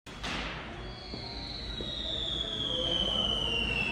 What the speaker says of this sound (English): I thought it was just fireworks going off in the back of the truck.